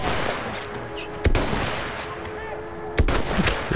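Gunfire in the first-person shooter Battlefield 1 during a multiplayer sniper match, with two sharp, loud shots spaced well apart over a steady rumbling battlefield background, and distant firing scattered throughout.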